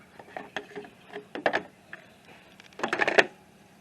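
A wrench loosening a 12 mm nut beneath a pulley on a 2001 Honda Accord engine, heard as short close bursts of metallic ratcheting clicks and clatter.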